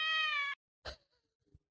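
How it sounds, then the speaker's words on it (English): A cat meows once outdoors, a clear drawn-out half-second call, followed by a couple of faint knocks and rustles. "There's a cat outside."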